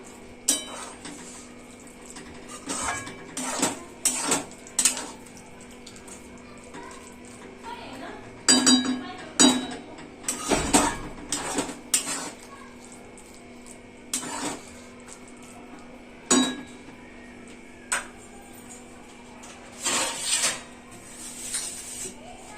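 Spoon stirring masala mushrooms with coriander powder in a pan, repeated metallic scraping and clinking in irregular bursts, close, with a voice talking intermittently.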